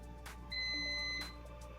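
A single short electronic beep from a multimeter continuity test on a transformer winding, thin and high-pitched, lasting under a second over a faint steady hum.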